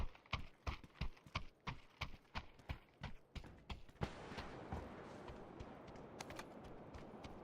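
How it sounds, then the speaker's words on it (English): Footsteps overhead in PUBG, a steady run of heavy, regular thuds on a floor above that stop abruptly and give way to a broad hiss. "Hearing footsteps above us."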